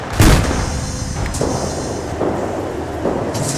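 Artillery fire in Arma 3, a loud close boom at the start followed by several rolling, rumbling detonations spread out across the moment, with no talking.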